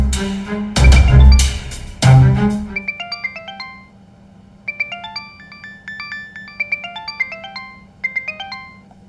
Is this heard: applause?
no